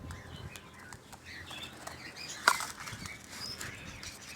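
A wild pigeon bursts into flight on release from a bird trap, a short sharp flurry of wingbeats standing out against faint outdoor background.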